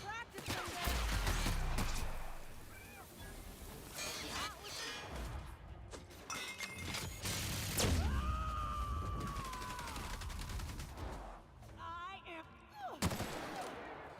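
Gunfire in The Outer Worlds video game crackles in bursts alongside crashes, booms and a rising whine, with game sounds and music layered over them, all fairly faint.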